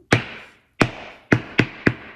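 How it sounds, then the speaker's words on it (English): Hammer blows striking a primitive wooden sign to dent and distress it, five sharp separate impacts with short ringing decays, the last three in quicker succession, close and loud with no talking. "I'm taking a hammer and using both ends, first the claw part, and I'm just denting"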